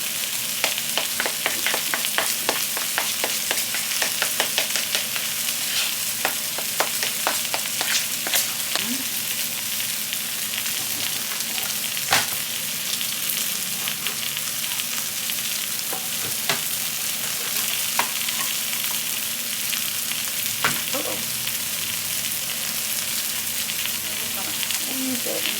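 Food fries in a pan with a steady crackling sizzle while a utensil stirs and scrapes through it, producing repeated sharp clicks and taps over the continuous hiss, with no one talking.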